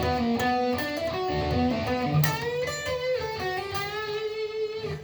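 Electric guitar playing a lead solo passage, the second section of a solo, with sustained bent notes and melodic phrases ringing clearly and steadily without any talking.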